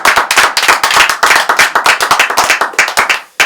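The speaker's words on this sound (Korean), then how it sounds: "큰 박수 한번 주시기 바랍니다" Audience clapping during a Korean speech-themed broadcast, a dense run of sharp hand claps that goes on steadily, close and loud, then drops off abruptly near the end with no talking.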